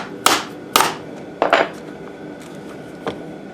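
A failing Milwaukee 4 1/2-inch angle grinder in a home shop gives off three or four sharp, isolated clacks and knocks as it spits out plastic chunks, separated by quiet gaps with no steady motor whine.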